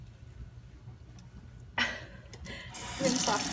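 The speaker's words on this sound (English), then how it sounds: "rinse off the chicken." Tap water runs into a kitchen sink over a raw whole chicken being rinsed, a quiet start giving way at about 1.8 seconds to a broad, steady splashing rush that grows fuller near the end, with no talking.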